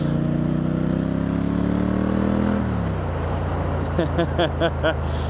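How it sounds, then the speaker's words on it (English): A Triumph motorcycle engine drones steadily, then drops in pitch as it downshifts, followed by quick revving blips of the throttle, loud and close. "Is there anything better than a nice downshift?"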